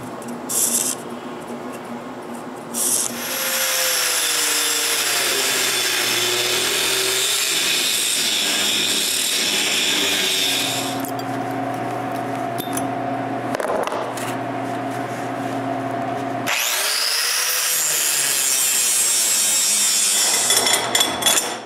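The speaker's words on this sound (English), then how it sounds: "I still need to cut the metal plate from the crisscross mechanism" Metal plate being cut from the crisscross mechanism of a movable workbench, a loud, steady sawing drone of a power tool that runs for long stretches with brief pauses and changes in pitch, close and with no talk.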